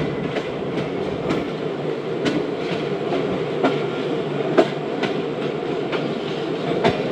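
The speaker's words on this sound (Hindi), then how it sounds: "खानपुर जंक्शन पास हो रही है ट्रेन" Karachi Express train running through Khanpur Junction, a steady rumbling roll heard from on board with repeated clickety-clack rail-joint clicks at irregular intervals, no voices.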